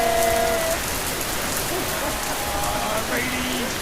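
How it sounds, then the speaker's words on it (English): Steady heavy rain pours down in Vietnam, a dense continuous hiss of drops striking surfaces, loud and close throughout with no talk. "it rained here in Vietnam. A lot. And more rain."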